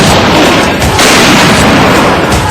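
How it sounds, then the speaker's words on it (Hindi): Army artillery guns fire at the Long Proof Range in Jabalpur, Madhya Pradesh, producing a loud, continuous roaring blast that fills the whole moment up close. "रोज दर्जनों बार सेना की ऐसी कई तोपें गरजती और बरसती हैं"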